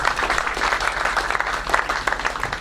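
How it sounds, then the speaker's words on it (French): Sustained applause from a gathered crowd at a mourning ceremony honouring a deceased national deputy, dense steady clapping filling the space throughout with a faint murmur of voices underneath. "Nous pouvons applaudir pour le Seigneur en mémoire de ce grand homme."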